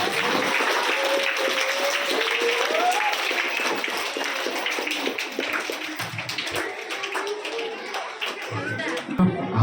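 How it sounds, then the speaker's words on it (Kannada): Loud audience applause at a school Sharada Pooja celebration, dense clapping that fills most of the span before thinning into scattered claps near the end. "ಎಲ್ರಿಗೂ ಜೋರಾದ ಒಂದು ಚಪ್ಪಾಳೆ ಕೊಡಿ"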